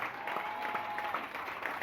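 A church congregation claps and cheers in praise during a worship service, a dense, steady wash of applause from a crowd filling the room throughout the short moment.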